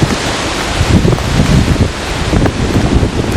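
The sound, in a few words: wind blowing on an old road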